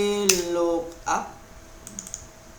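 Keys on a computer keyboard click in a short burst of typing during spreadsheet work in Microsoft Excel, with a few scattered taps afterward, heard near and at moderate volume beside a speaking voice.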